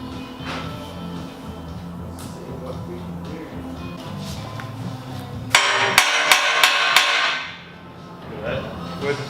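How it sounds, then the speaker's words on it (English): A run of about five sharp metallic hammer strikes on steel in quick succession, loud and ringing, during a roll cage install, following a stretch of background talk and workshop noise. "We're gonna give it a bit of a whack of a hammer first"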